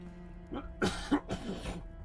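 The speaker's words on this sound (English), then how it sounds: "Oh goodness, do I have a cough?" A person working on a craft project gives a quick cluster of three dry coughs, close to the microphone, against a low steady hum with no talking.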